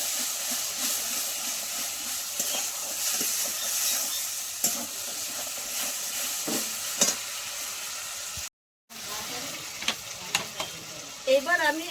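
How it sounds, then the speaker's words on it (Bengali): Pointed gourd stirred and frying in a pan with a little salt, a steady close sizzle with scraping stir strokes, broken by a brief silent gap before the frying resumes. "এইভাবে আমি একটু 5 মিনিট মতো একটু নেড়ে চেড়ে নেব।"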